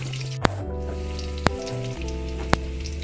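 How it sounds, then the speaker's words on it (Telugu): Mustard seeds, cumin, green chillies and salt frying in hot oil: a continuous close sizzle broken by three sharp, evenly spaced pops, with no talking. "తర్వాత పచ్చిమిర్చి వేసుకొని అందులో కొద్దిగా సాల్ట్ వేసుకొని వేయించుకోవాలి"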